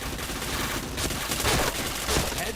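Rapid bursts of gunfire crackle in a shooter video game, dense and continuous with sharper volleys near the middle and end, loud and close with no talk over it.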